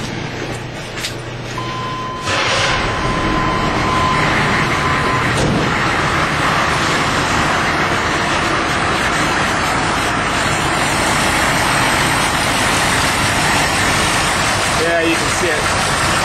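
A Detroit Diesel 6.2 liter engine cranks briefly, then catches and runs at a loud, steady idle for the rest of the clip, close by.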